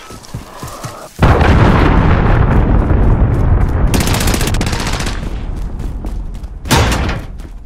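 Allied cruise missile strike in Call of Duty: Modern Warfare, a sudden heavy blast after quieter gunfire, then a sustained roaring rumble broken by sharp cracks and a second loud impact near the end.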